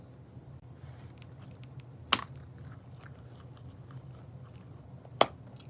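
Mints being chewed close up, with two sharp crunching bites standing out against a quiet background of faint softer mouth sounds.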